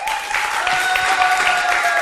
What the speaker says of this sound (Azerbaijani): Əvvəl bir də özünüzü yaxşı alqışlayın.